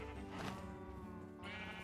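Sheep bleat in Minecraft, with two quavering cries in a row, the second starting after the first fades, clear and at moderate volume with no speech.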